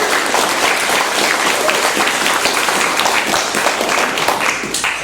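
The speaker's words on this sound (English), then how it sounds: "So let's give them a round of applause." A concert audience at a university lo-fi mixtape premiere night claps and applauds continuously for several seconds, a dense, steady wash of hands from a crowd with no voices standing out.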